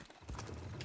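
Horse hooves clop briefly in the video game Red Dead Redemption 2, followed by a short neigh or snort, all over in under a second.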